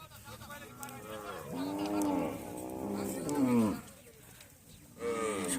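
Cattle at a crowded cattle market on a char of the Padma river in Bangladesh give several long, drawn-out moos close by, one after another, over a low background murmur.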